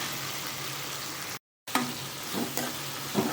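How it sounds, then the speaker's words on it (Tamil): Dried red chillies and tomatoes sauté in oil for tomato chutney, giving a continuous near frying hiss with a brief break and then renewed sizzling and a few stirring knocks. "இதை வந்து நல்லா கொஞ்சம் வதக்கணும்."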